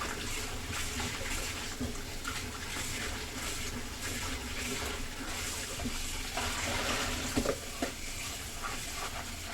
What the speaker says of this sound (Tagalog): Banlaw muna tayo ng ating manok.